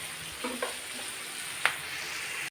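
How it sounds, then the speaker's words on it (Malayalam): Prawns cooking in a pan with salt, chili powder and turmeric give a steady, quiet frying sizzle throughout, broken by a few soft stirring clinks and one sharper utensil tap near the end. "അപ്പം ഞാൻ വേറെ പാത്രത്തിലിട്ട് ചെമ്മീൻ ഉപ്പും മുളകും പൊടിയും മഞ്ഞൾപ്പൊടി ഇട്ടിട്ട് വേവിക്കുകയാണ്."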